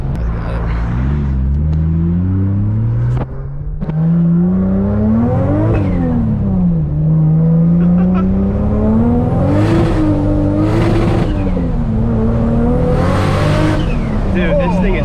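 A Toyota Supra fitted with a bigger turbo accelerates hard, its engine note climbing loudly through the gears with shifts between rising sweeps, while people talk excitedly inside the car.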